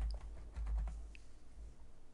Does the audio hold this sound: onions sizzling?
no